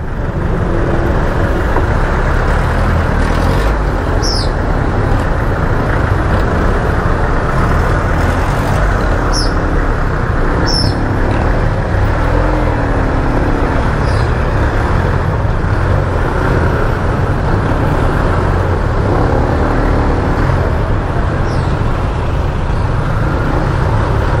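Congested road traffic in a jam: a dense, constant rumble of idling cars, buses and trucks with occasional hissing air brakes and faint squeaks, loud and unbroken throughout with no one speaking.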